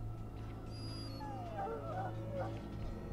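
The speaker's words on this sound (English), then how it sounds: "The mabari growls weakly" A mabari war dog from the video game Dragon Age Origins whimpers and yips softly in a rising, wavering whine over a steady low game hum.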